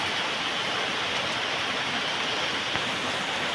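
Heavy rain falling in Dhaka, a dense, steady broadband wash of downpour with no breaks or voices, close and constant throughout.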